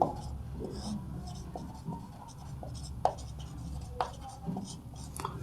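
A pen scratches across paper while math set notation is written out, short strokes and taps close by, with a voice speaking over parts of it.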